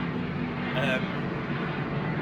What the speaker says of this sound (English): aeroplane going past